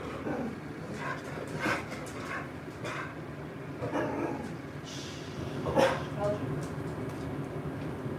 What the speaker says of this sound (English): My dog is just barking.